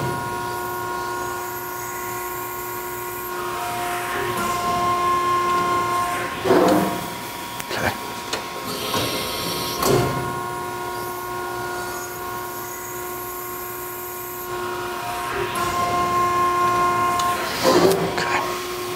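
A Baykal 31090 hydraulic press brake bends sheet metal to 90 degrees, with a steady tonal pump hum throughout and a few sharp clanks and thumps as the ram strokes, heard loud and close.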